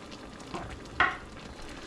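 Butter shrimp with ketchup cooking in a pan gives off a steady close sizzle and frying crackle, with one brief sharper pop midway.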